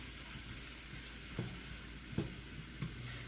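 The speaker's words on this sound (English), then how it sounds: "We're just going to stir it around like this" Food sizzling in a pan for honey-glazed salmon, a soft, steady frying hiss under three distinct scrapes and knocks of a utensil stirring, fairly quiet with no voices.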